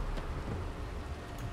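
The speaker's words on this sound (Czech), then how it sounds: "tahle planeta jako má, je furt v dešti? A furt tady uhozují blesky" Heavy rain pours steadily on a stormy planet in Starfield, with a low rumble of thunder beneath the hiss, loud and continuous through the short stretch.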